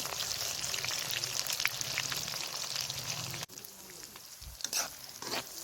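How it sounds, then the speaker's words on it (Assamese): Chopped onions fry with bay leaves in a pan of oil for goat meat curry, giving a steady close sizzle that drops briefly at one point and then picks up again with a few louder crackles. "আৰু এইফালে দেখিছেনে মই পিঁয়াজটো অকণমান ৰঙাকৈ ভাজি ল'ম, ৰঙচুৱাকৈ ভাজি ল'ম"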